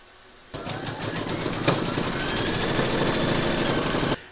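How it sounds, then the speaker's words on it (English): An embroidery machine stitching an applique outline for a quilted turkey placemat starts abruptly, then runs as a close, steady rapid mechanical whir with needle clatter and stops sharply about four seconds later. "Pop your hoop into your machine and stitch round number 4 to secure it."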